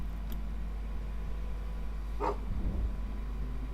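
A dog gives a single short bark partway through, fairly distant and faint over a steady low hum and room noise.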